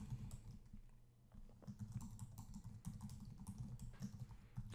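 A password is typed on a computer keyboard in a run of quiet, rapid key clicks with short pauses, close by and faint.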